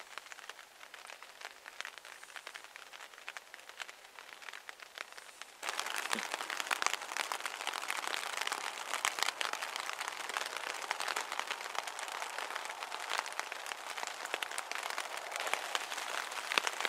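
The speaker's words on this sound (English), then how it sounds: "So the winds and the rain have picked up. You can hear it out there." Heavy rain and wind beating on a tarp over a hammock camp during a storm, a dense steady hiss and patter that swells suddenly louder partway through and continues unbroken.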